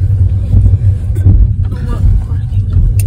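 A car engine turns over and settles into a loud, low idling rumble close by, with people talking over it.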